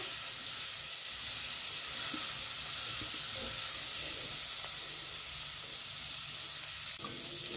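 A fresh cashew vegetable dish sizzling steadily in a pan, a soft continuous hiss with faint stirring scrapes, no voices.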